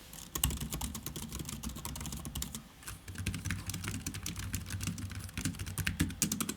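Typing on a Razer Joro keyboard, a fairly quiet low-profile board: a steady run of soft, rapid key clicks with a low thumpy body, close up and continuous, with a brief lull near the middle and no talking.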